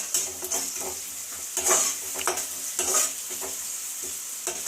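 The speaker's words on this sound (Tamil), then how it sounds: "நல்லா கிண்டிக்கலாம்." Food fries with a bright continuous sizzle while a spoon scrapes and stirs it around the pan in uneven strokes, close up with no talking.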